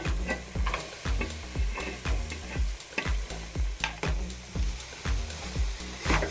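Rice is stirred into fried gongura paste in a pan, a spoon scraping and thudding in a steady rhythm of about two strokes per second over a soft sizzle.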